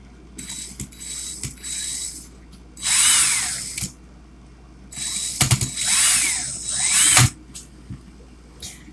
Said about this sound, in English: Sometimes when you stick the Clapton wire in your drill chuck, it just doesn't grab.